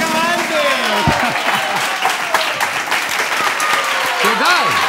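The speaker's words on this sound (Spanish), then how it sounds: "preparamos para dar un aplauso para el ganador de esta edición" Studio audience on a variety TV show applauds the winner of the edition, continuous dense clapping with cheers and a voice or two calling out over it.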